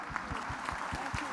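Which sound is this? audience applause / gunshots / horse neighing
audience applause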